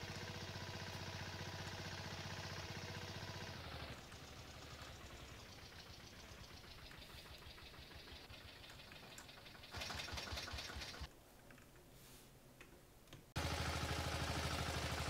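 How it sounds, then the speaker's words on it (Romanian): Tractor engine in Farming Simulator 22 held at maximum revs, a loud steady mechanical drone that drops in pitch partway through, then surges back to a high roar, with no talking. "Că stă tractorul ăsta turat la maxim."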